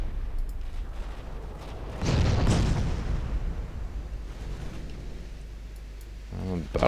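Heavy cruisers firing naval guns in the warship battle game Ultimate Admiral Dreadnoughts, a deep boom swelling into a loud rumbling salvo that fades into a steady low roar, with a small burst near the end.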